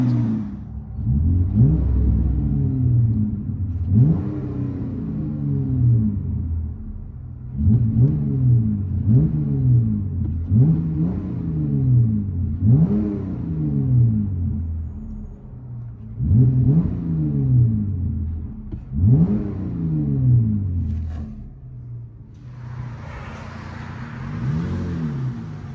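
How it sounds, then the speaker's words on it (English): Inside the cab of a 2022 Ram 1500 Tradesman with a 3.6L V6 and a Flowmaster Super 44 exhaust, the engine is revved about eight times in a steady rhythm, each burst a muffled, droning swell that falls back before a quieter whir at the end. "With a FLOWMASTer Super 4 rear delete, resonator delete, 5-inch black tip."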